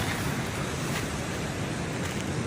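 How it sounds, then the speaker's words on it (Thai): Cool sea breeze on an ocean shore where people fish, heard as a continuous broadband rush of wind and surf with heavy microphone wind noise, loud and unbroken, no voices. "พามาสูดอากาศรับลมทะเลเย็น ๆ นะครับ"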